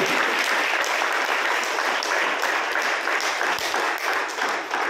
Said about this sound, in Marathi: जोरदार टाळ्या वाजवून स्वागत करूया